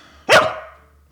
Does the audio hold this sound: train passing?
no